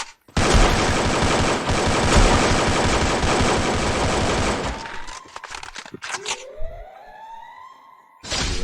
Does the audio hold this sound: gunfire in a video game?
yes